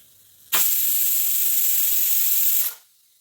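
A pressure cooker cooking rice lets out one loud, close, steady hissing blast of steam lasting about two seconds, then falls quiet.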